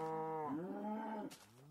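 Minecraft cow on Xbox gives a single drawn-out moo with a falling, wavering pitch, clear and close, with a faint soft click after it.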